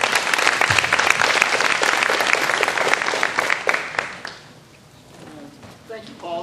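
An audience at a USDA Rural Development event applauds to welcome a speaker. The clapping is dense and loud for about four seconds, then fades to scattered claps, and a voice starts talking near the end.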